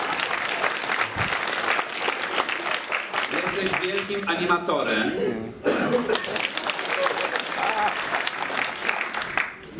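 Sustained audience applause fills a stage benefit evening honoring Romuald Grząślewicz at Scena na Piętrze, dense steady clapping from a crowd while someone speaks over it, with an occasional cough.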